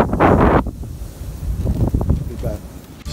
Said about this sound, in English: it's windy as hell up